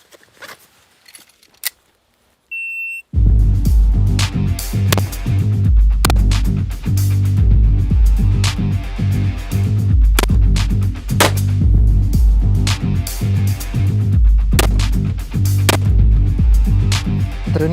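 Assault rifles fire during a shooting drill that tests different sights, a reflex collimator among them. A quiet lead-in gives way to loud, sustained gunfire with rapid repeated shots and crisp impacts.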